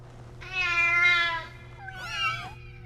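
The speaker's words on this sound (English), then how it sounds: "Today we'll be addressing the art of communication, the meow." A kitten meows twice up close, first a long, drawn-out cry and then a shorter, wavering call, against a quiet low hum with no talking.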